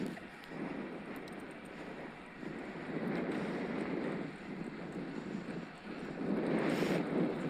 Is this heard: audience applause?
no